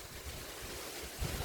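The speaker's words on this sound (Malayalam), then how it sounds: "പാടത്തെ സൈഡ് തന്നെ നല്ല കാറ്റ്" Strong wind blowing beside a paddy field in the evening, a steady rushing roar with low microphone buffeting that thickens near the end; no voices.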